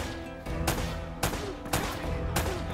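Gunfire in Uncharted: Drake's Fortune Remastered, sharp loud shots cracking out at steady intervals over a constant rumbling combat backdrop.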